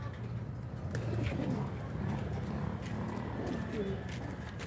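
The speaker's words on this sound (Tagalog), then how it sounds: "So ayan yung kanyang baby kalapate." Soft pigeon coos repeat at a low pitch against steady background noise, with faint voices nearby.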